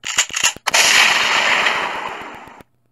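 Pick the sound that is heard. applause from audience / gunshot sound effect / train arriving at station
gunshot sound effect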